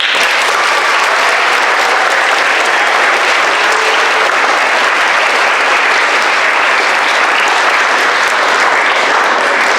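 Loud, sustained audience applause at a school Black History program, thick continuous clapping close by that holds level for nearly ten seconds, with a few faint cheers within it.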